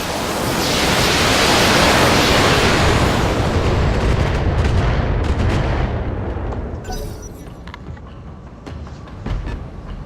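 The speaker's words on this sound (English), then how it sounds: "we're just going to fire" Heavy weapon fire from a mech in the Battletech video game: a loud, sustained roaring barrage like artillery or missiles that swells for several seconds, then fades into rumbling with a few scattered later impacts.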